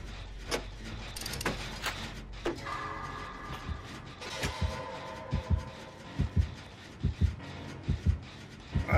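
A steady thumping heartbeat terror-radius warning in Dead by Daylight pulses in a regular rhythm beneath game ambience, with other in-game clicks and noises layered on top.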